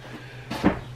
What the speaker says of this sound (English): This door here is stuck.